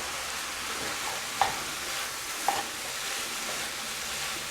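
Cooked rice stir-fried into curry chicken in a pan, a steady close sizzle throughout with two brief clicks of a utensil against the pan.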